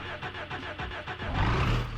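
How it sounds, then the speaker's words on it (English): A stock bus engine in BeamNG.Drive cranks with a rapid rhythmic chugging, then catches and settles into a louder, steady low rumble, close and with no voices over it. "I'm going to start it up and show you what the smoke looks like on default BeamNG.Drive"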